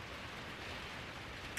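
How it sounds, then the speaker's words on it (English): Faint, steady hiss of rain falling outdoors on a rainy day, even and continuous with no voices. "It's currently a rainy day"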